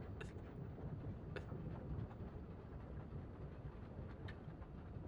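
Low, steady rumble of a train in a video game set in the snowy region of Snezhnaya, with faint clicks and brief high rattles over a continuous mid-level drone, no voices.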